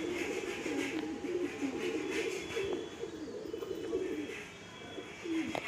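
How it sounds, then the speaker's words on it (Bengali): A Fatka line pigeon coos in low, rolling phrases repeated close by, with faint background noise and no talk. "এটা রাজুদা ফটকা লাইনের পায়রা।"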